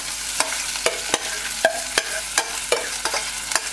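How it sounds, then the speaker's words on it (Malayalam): Washed rice toasts in hot ghee in a pan, a continuous sizzle broken by regular scraping strokes of a spoon roughly every half second, close and fairly loud. "നമ്മള് ഈ അരി ഒന്ന് ഇതില് വറക്കും ഈ നെയ്യില്"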